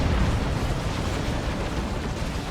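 An orbital strike detonates in the real-time strategy game Dawn of War 2 during a 3v3 match, a dense, rumbling blast that sustains loudly as a broad roar for a couple of seconds, alone without talk.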